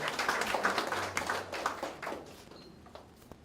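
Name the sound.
audience applause at a ceremony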